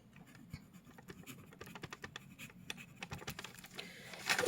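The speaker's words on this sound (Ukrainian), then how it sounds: "Записуємо відповідь до задачі" A pen writes the answer to a math problem on paper, a faint, close, continuous scratching with quick strokes and small taps.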